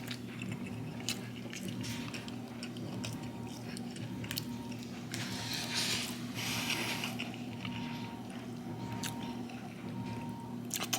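Grilled jerk chicken, finished directly over a fire, is bitten and chewed close up: soft wet crunches and squishy mastication repeat steadily over a low, constant background hum.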